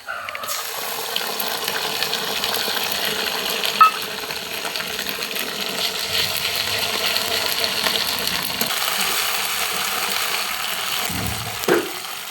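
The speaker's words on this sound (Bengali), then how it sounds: "এবার এই মশলাটা ভাজা ভাজা হয়ে এসেছে" Ginger, garlic and dried red chilli paste fries with browned onions in a pan for Bengali beef kosha, making a continuous close sizzle with soft stirring scrapes and a brief knock near the end.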